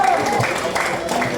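Audience applause greeting arriving senators at a live event, a dense steady wash of clapping from a crowd that holds at an even level throughout with no pause.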